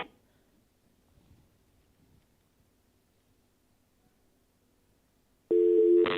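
Telephone call going unanswered: near-silent line with faint faraway noise, then a loud steady busy-signal tone cuts in near the end and holds.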